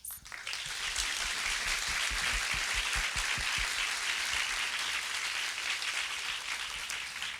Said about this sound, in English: give all of those people I just mentioned and everyone I forgot a big warm round of applause